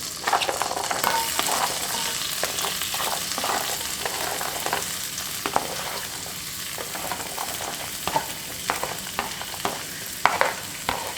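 Onions sautéing in butter and olive oil in a pan, a continuous close sizzle with scattered light crackles and pops and occasional stirring scrapes.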